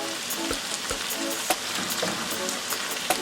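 Callaloo fries in a pot with a steady, close sizzle and crackle. Small pops and stirring clicks sound over the hiss.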